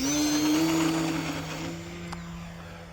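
An E-flite Ultra Stick RC airplane's electric motor whines at high pitch as it takes off, loud at first and then gradually fading as the model climbs away.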